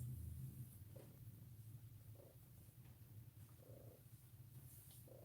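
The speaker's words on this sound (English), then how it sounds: "I don't know if you guys can hear her purring." A cat's soft, steady purr rumbles low and close, continuous throughout with faint rhythmic pulses of breathing.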